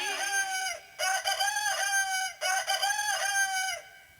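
A person imitates a rooster crowing three times in quick succession, each a drawn-out, bright call with short pauses between, fairly close.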